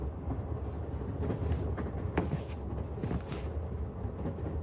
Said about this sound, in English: This train.